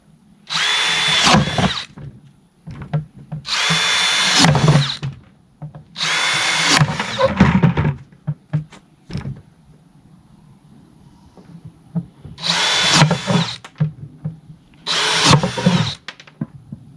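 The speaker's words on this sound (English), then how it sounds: "I just use a 3/4 inch paddle bit, and we're going to make 6 holes." Power drill fitted with a 3/4 inch paddle bit bores holes in a plastic bucket, five separate loud whining bursts of about two seconds each, separated by short quiet gaps.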